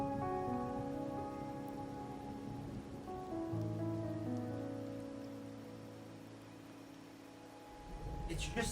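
Faint, steady video-game rain hisses in the background beneath sustained musical tones and quiet talking.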